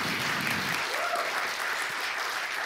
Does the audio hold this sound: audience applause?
yes